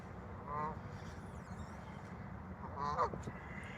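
A gaggle of geese honk at a distance, two brief bursts of honking heard faintly over steady outdoor noise.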